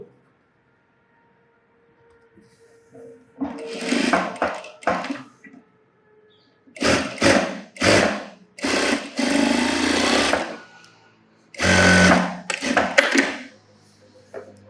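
A sewing machine stitches a blouse in a series of short, close bursts separated by brief pauses, loud and near with a buzzing whirr.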